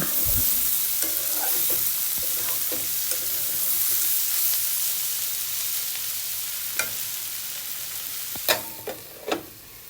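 Sliced bitter gourd frying in oil with coriander leaves, a steady sizzle broken by occasional spatula scrapes and a few sharper knocks near the end, close and clear with no talk.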